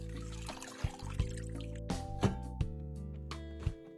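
Water dripping from whole washed napa cabbage leaves left to drain, scattered irregular drips and small splashes over a steady low background hum.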